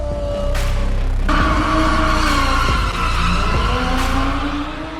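A high-powered manual supercar lets out sustained tire squeal as it slides sideways in a drift, engine droning loudly underneath with brief revs, the screech shifting pitch across the few seconds before easing off at the end.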